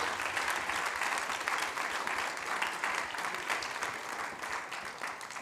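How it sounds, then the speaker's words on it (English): A seated audience at a festival gathering bursts into steady, dense applause that carries evenly for several seconds before thinning slightly at the end. "Give yourselves a round of applause for that."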